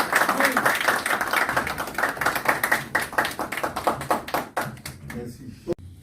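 Applause at a special board meeting electing an association president, a dense crowd of hands clapping loudly and steadily, then thinning into scattered claps and dying out near the end.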